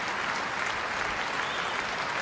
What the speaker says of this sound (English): The stadium joining in a moment's applause